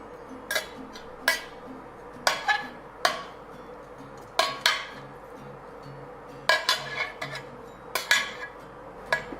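A series of sharp metallic clanks and clinks, several in irregular bursts, as a cooking pot of Ethiopian doro wot is set down and shifted on a hard surface, fairly close.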